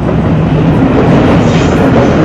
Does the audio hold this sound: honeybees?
no